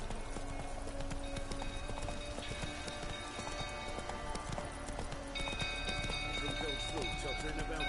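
Horse hooves clip-clop at a steady trot in The Witcher 3: Wild Hunt, a continuous rhythmic patter over dense rain-like game ambience and music, with a voice talking over it.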